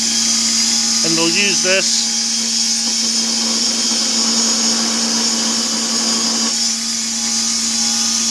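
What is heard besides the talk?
belt grinder tilted on its side rounding knife notches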